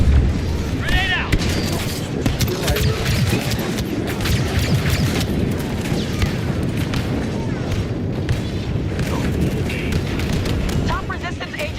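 In a Star Wars Battlefront 2 battle, a grenade blast and heavy booms ring out amid continuous rattling gunfire and scattered sharp shots, with game voices calling out underneath.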